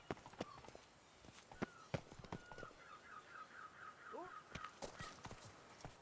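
Roach the horse's hooves clip-clop in The Witcher 3, a run of fairly close steps with other game sounds and brief calls around them.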